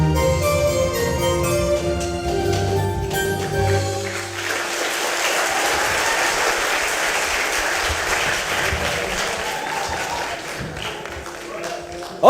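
An audience applauds a school theatre performance by SMA Bina Muda, a staging of the Sundanese tale Mundinglaya Dikusumah, with sustained, dense clapping that takes over as closing music ends and stays loud throughout.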